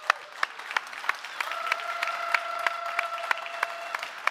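Conference audience at the Neos Conference 2023 applauding the release managers, a dense and steady round of clapping from a roomful of people that builds slightly and holds throughout, with faint tonal sounds in the background.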